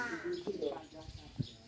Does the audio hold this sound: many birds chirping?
yes